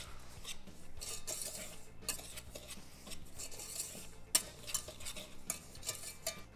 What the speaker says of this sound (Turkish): 2 yumurta sarısını da yine şekerin üzerine döküp güzelce karıştırıyorum.